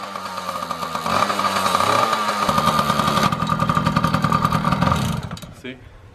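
Engine in a turbocharged Foxbody Mustang build revving under throttle, a loud buzzing drone rising and holding for several seconds before cutting off near the end.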